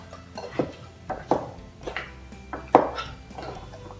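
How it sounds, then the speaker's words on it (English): Honey rib sauce being stirred in a bowl for Instant Pot Chinese sticky ribs: a series of separate clinks and taps, roughly five, each sharp and fairly close, with quiet gaps between them and no talking. "You need to mix this up first."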